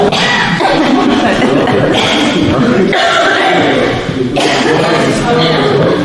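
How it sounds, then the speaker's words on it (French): A loud, busy self-defense class with many people coughing and chuckling over steady chatter, the noise continuous and close. "Pourquoi vous toussez comme ça?"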